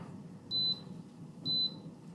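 A Cordivari Eco thermostat gives two short, high electronic beeps about a second apart as its buttons are pressed, over a low background hum.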